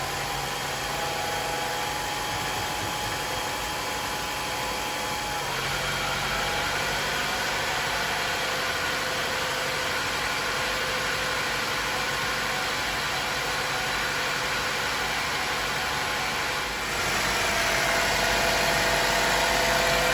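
A Chevrolet Cruze 1.4 engine idles steadily after replacement, a continuous even hum close by that rises slightly in level near the end, with no talk.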